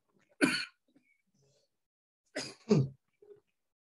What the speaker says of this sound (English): I think the fan has been blowing in my face. That's why I keep coughing.